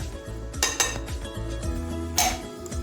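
Utensil clinking and scraping against a bowl while butter is mixed with icing sugar, a few sharp knocks among steady rhythmic stirring, no talk.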